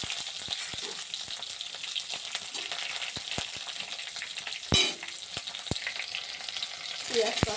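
Garlic hits a hot pan already holding black cumin seeds and tomato, setting off a steady close sizzle of frying with occasional sharp scraping clicks from stirring.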